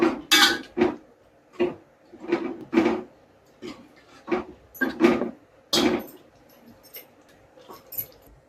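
Eggs are being turned in an oily, spicy masala for a village-style egg curry, giving a series of close, sharp scrapes and clinks of a ladle against the pan in an uneven rhythm with short pauses.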